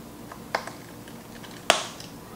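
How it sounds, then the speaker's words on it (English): Plastic tabs on an Alienware M15 R1 laptop case snap back into place during a battery replacement, two sharp distinct clicks about a second apart, the second louder, close up in a quiet room. "no worries if you hear any popping or whatever, those are just the tabs clicking back into place."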